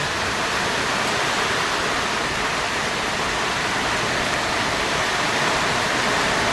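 Heavy rain pours down in a loud, unbroken downpour, a constant dense hiss that fills the whole stretch without a break and with no one speaking.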